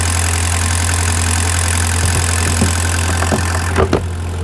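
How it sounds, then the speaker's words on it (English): A 43-horsepower Nanni marine engine idles aboard a boat on the Norfolk Broads, holding a loud, steady low rumble close by, with a few light knocks and taps near the end. "So that's a 43 horsepower Nani engine"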